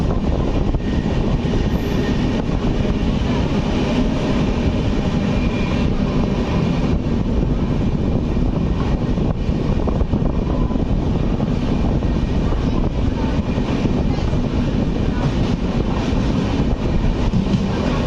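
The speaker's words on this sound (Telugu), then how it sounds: "మన ట్రైన్ ఇప్పుడు మూవింగ్ టువర్డ్స్ కాజ్పేట్ జంక్షన్." The Visakhapatnam–Kazipet express runs at night with a steady, loud rumble of wheels and carriage noise that holds throughout, with no voices.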